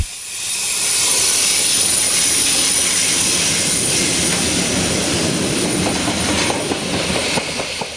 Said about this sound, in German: Von dort fährt der Gegenzug gerade ein.